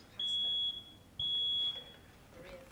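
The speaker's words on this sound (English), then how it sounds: "I hate the sound of a fire alarm." A smoke alarm in a restaurant kitchen scene from the TV show The Bear sounds two sustained high-pitched beeps separated by a short pause, clear but not very loud, followed by quiet background sounds.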